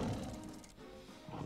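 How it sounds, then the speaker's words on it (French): A tiger's roar in the Fort Boyard video game, rendered as a low, rumbling growl that is fairly faint and brief. "Il y a un tigre derrière ma voiture"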